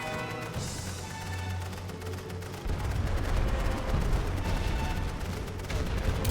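Heavy artillery pounding a trench sector in the WWI strategy game The Great War: Western Front, with a dense, loud rumble of repeated blasts and gunfire that intensifies partway through and continues without pause.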